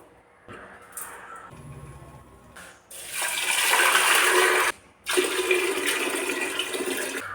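Running water gushes and drains while cumin and small rice-gruel ingredients are rinsed in a kitchen, starting as a soft trickle, then two loud, close bursts of rushing water separated by a brief pause.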